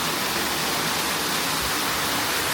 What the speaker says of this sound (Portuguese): Isso é a água que faz moinho andar.